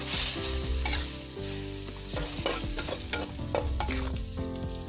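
Green beans and quail eggs stir-fried in a pan give a steady sizzle with repeated scraping strokes of the utensil, heard up close, over a tonal background that sounds like music.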